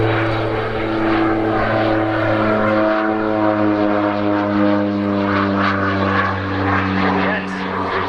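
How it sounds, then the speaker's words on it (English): A propeller aircraft makes a low dirty pass at an airshow with flaps and undercarriage down, its engines giving a loud, steady droning hum throughout while a commentator talks over it. "Here, as they call it, a dirty pass. Flaps down, undercarriage down."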